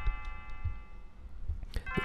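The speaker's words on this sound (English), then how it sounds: "the bell starts ringing" A bell chiming in the Chrono Trigger SNES game, a steady sustained ringing tone with repeated strikes through the short stretch, sitting over low game background sounds.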